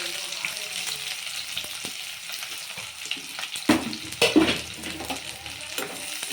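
Onions and two green chillies fry in hot oil for chicken curry, sizzling steadily up close, with a few louder bursts and clattering stirs toward the end.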